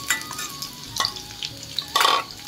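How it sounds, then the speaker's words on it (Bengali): Potatoes and pointed gourd fry in a pan with a loud close sizzle, broken by several sharp stirring scrapes and spatters, the biggest burst near the end. "এদিকে আমার আলু পটল লাল লাল করে ভাজা হয়ে গেছে।"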